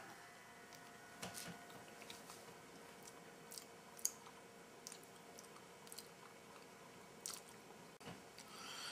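Someone chews a 2004 military MRE spaghetti with meat sauce, producing soft, close, irregular wet chewing and faint clicks over a low steady room hum, with no talking.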